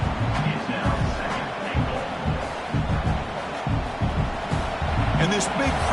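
A big football stadium crowd roars to inspire the defense near the goal line, a steady heavy rumble of cheering with rhythmic surges beneath a commentator talking throughout.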